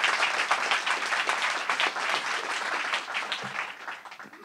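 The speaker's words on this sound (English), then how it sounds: "let's give them another round of applause" Audience applause after a talk on climate disruption, a dense steady wash of many hands clapping that holds evenly throughout and thins a little toward the end.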